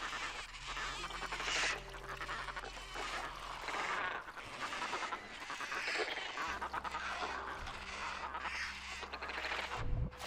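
Game ambience of birds in the sky: honking, goose-like calls repeat in irregular bursts, fairly clear, over a low droning hum that cuts in and out.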